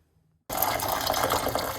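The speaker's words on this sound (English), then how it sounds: "1 cup of hot water inside of it." Hot water pours into a cup, starting suddenly after a moment of silence and continuing as a steady, close splashing trickle.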